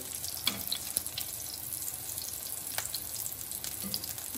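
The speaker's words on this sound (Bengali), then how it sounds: "সেই অবস্থায় ডিম ফ্রাই করতে হবে।" Eggs frying in oil in a pan over a medium flame while fritters are made, giving a steady broadband sizzle with a few brief crackles, heard alone at moderate level.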